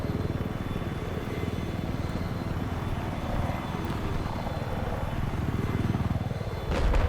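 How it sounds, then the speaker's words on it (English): A helicopter in a Battlefield match on the Shanghai map thrums steadily throughout, a continuous rotor and engine drone with a faint rise near the end, beneath game noise. "Loa with the helicopter kill takes out Drunken Lions."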